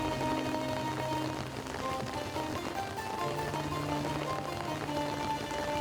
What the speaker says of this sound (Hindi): बारिश बहुत तेज हो गई है